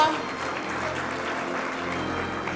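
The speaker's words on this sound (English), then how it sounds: "Big round of applause" An audience at a print industry summit applauds a prize winner, a continuous even wash of many clapping hands, fairly loud and unbroken from start to finish.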